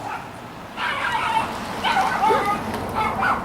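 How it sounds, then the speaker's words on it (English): A neighbor's dog barks and yips excitedly after a passing car, moderately distant, in a run of agitated bursts over steady background noise. "a car drove by and a neighbor's dog went crazy"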